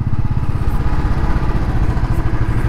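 A Royal Enfield Bullet motorcycle engine runs up close and loud, its low, steady thumping idle pulsing evenly throughout with mechanical clatter and no voices.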